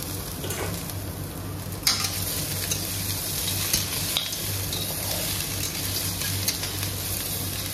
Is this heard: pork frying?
yes